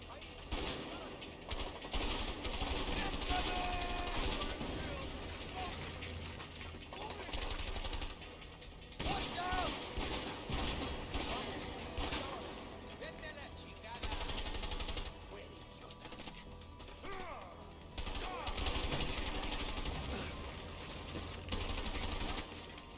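Gunfire crackles through a cooperative shooter game, with rapid bursts and single shots coming in waves across a cluttered, busy mix that stays fairly quiet overall.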